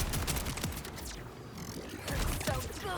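Rapid automatic weapon fire from the video game Borderlands 4 during a sniper build, dense bursts of shots with a short lull in the middle before the spraying picks up again.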